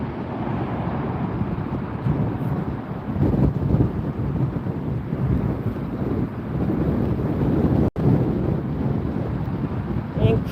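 Strong gusty 40-mile-an-hour wind in Las Vegas buffets the microphone with a continuous low rumble that rises and falls, with a brief dropout near the end.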